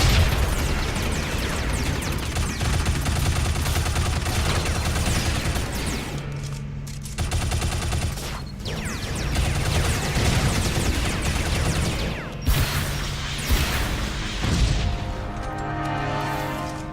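Missiles launch and explode in rapid succession during a room-clearing fight in the action game Shadow Complex, with heavy, continuous blasts and crashes broken by a few brief lulls, loud and chaotic throughout.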